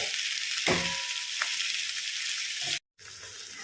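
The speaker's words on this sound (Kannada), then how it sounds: "ಈಗ ಇದು ಕ್ರಿಸ್ಪಿಯಾಗಿ ಫ್ರೈ ಆಗಲಿ ಆರಾಮದಲ್ಲಿ ಲೋ ಫ್ಲೇಮಲ್ಲಿ" Fish frying crisply in oil over a low flame, a steady close sizzle and crackle with a few small pops and a brief break near the end, no talking.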